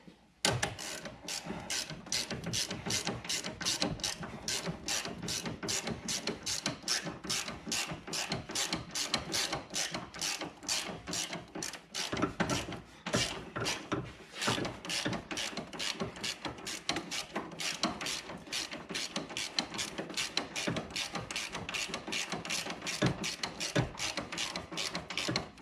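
Socket ratchet on an extension clicking steadily while working on a 2005 Ford Escape subframe, a close, fast run of even pawl ticks for the whole stretch with one brief pause near the middle.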